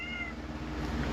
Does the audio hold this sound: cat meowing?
yes